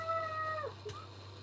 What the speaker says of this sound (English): He's my emotional support cat.